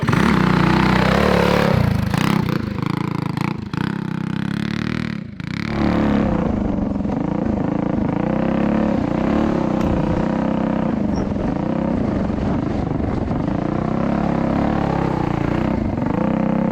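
An MB-200 mini bike engine revving loud and close as the bike pulls away, a steady raspy small-engine drone with a few throttle dips early on, continuous for the whole stretch.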